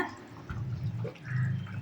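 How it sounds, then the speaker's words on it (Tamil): Coconut milk is poured into a simmering chicken gravy, a soft continuous liquid splashing and trickling close by for a couple of seconds. "இதில் 2 டம்ளர் தேங்காய் பால் ஆட் பண்ணிக்கிறேங்க."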